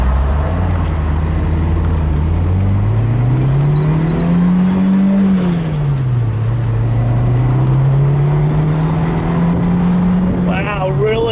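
A 1991 Lotus Elan accelerates hard in first gear on a test drive, its engine note climbing, dipping and rising again loudly from inside the cabin, with a brief higher whine near the end.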